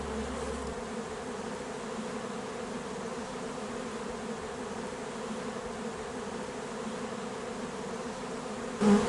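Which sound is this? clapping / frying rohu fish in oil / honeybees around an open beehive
honeybees around an open beehive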